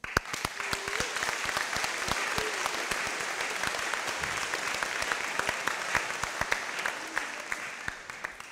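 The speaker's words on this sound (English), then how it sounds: "Give them a big round of applause." Steady applause from an audience at a 2019 graduation ceremony, dense clapping at even strength throughout with a faint voice briefly over it.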